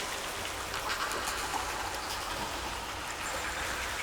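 Steady rain falls through the forest of Jeonbongsan mountain, an even wash of pattering drops hitting leaves with no break, quiet and all around.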